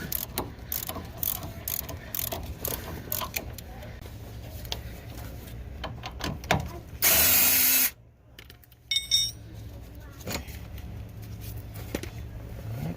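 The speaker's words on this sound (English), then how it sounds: "with my ratchet and socket, I'm gonna go ahead and break this side loose" On a 1992–95 Honda Civic, a ratchet and socket works a bolt loose during an axle and T-bracket job, with rapid clicking pawl bursts, a brief loud whirring noise midway, then sparse clicks and clanks, close-up.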